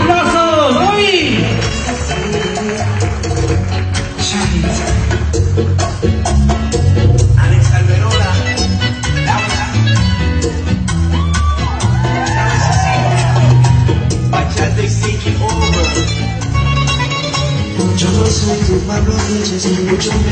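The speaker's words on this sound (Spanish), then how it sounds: "Give a round of applause, ladies and gentlemen" An audience at a dance performance by Karina Arce shouts, whoops and cheers over loud rhythmic music. The crowd noise is dense and continuous, and a host's voice cuts in at times.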